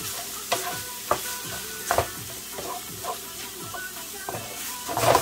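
Onions frying in a pan for pastelon-style empanada filling, a steady sizzle under repeated scraping stirs and clunks of a utensil, close up, with no talking.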